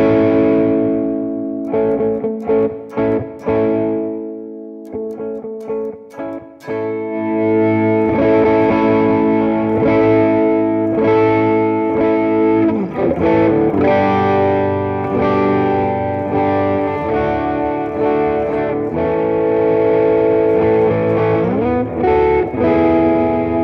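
A handmade Lojo electric guitar on the bridge pickup plays distorted chords and single notes, the tone swelling and thinning as the volume knob is turned, with brief stops and restarts early on before sustained ringing passages.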